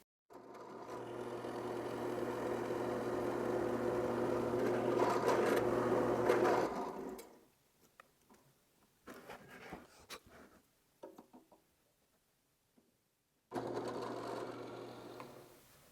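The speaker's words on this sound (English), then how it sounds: "I'm set up with a 1 inch Forstner bit, and I've set the depth stop" A drill press with a 1 inch Forstner bit bores into wood for a cradle. A steady motor whine runs for about seven seconds and stops, then scattered knocks follow before the motor starts up again near the end.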